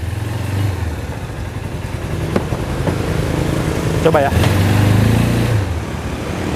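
ATV 200 Hammer Pro engine running on a test ride, a steady low engine drone that swells slightly toward the end, heard under a man's brief speech.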